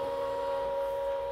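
A Brother ScanNCut machine runs as it starts cutting a design from a mat, giving a steady close motor whine with a clear tonal hum that holds for just over a second before easing off.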